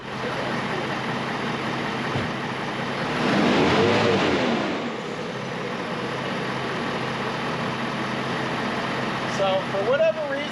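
A Ford truck's engine with a newly fitted cold air intake runs at a steady idle and briefly swells in a short rev, with people talking nearby throughout.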